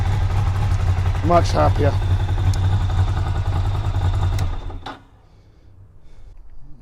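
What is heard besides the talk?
Ducati Monster motorcycle idling with new exhausts, choke on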